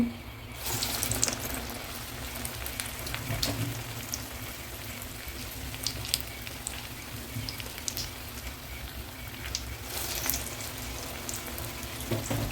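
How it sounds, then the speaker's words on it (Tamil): Medu vada batter sizzles and crackles steadily in hot oil, a dense bubbling hiss with occasional sharper pops, and no voices. "இப்போ நம்ம வந்து எண்ணெயில் போட்டுடலாம்"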